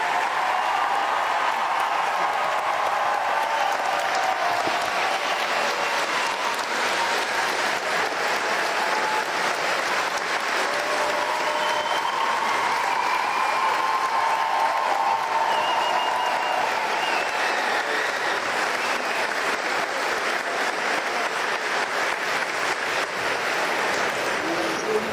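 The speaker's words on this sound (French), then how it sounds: "c'est un tonnerre d'applaudissements à Alexandre Vasquier" Sustained, thunderous applause from a large conference audience at a gaming convention, a dense wall of clapping that stays even and loud for the full stretch with no pauses.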